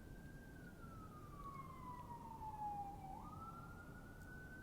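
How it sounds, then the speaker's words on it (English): A distant emergency siren wails steadily, its pitch gliding slowly down and then jumping back up, over a low rumbling background hum. "Sorry for the sirens"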